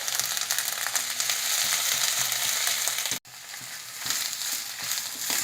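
Boiled peas are mixed into a frying pan, giving a steady close sizzle with scraping stirs and a brief break at about three seconds before the frying resumes.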